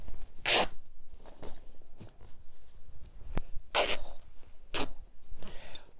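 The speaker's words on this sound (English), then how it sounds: "It's just so much easier just to go ahead and tear it like that." Fabric being torn by hand along the grain while sewing a laptop bag, a few sharp ripping bursts separated by pauses, close and fairly loud with no talking.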